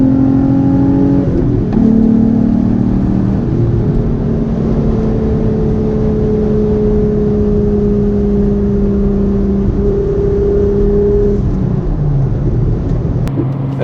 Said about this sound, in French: Et à chaque fois que je viens effleurer la pédale d'accélérateur, ça pétarade.